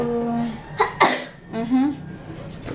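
A sharp close sneeze bursts out between bits of quiet talking and breathing, with a brief vocal sound afterward.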